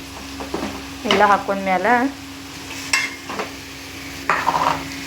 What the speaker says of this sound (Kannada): ಇದೆಲ್ಲ ಎಣ್ಣೆ ಒಳಗೆ ಫ್ರೈ ಮಾಡ್ಕೋಬೇಕು ಚಲೋ ತಂಗಿ.